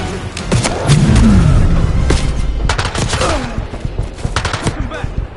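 Video game gunfire rattles in a loud, sustained volley of repeated shots mixed with heavy thuds and booms, continuing with scattered bursts throughout and no talking.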